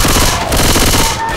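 Loud, dense automatic gunfire in the Left 4 Dead 2 zombie shooter, a continuous rattling burst that fills the whole moment up close.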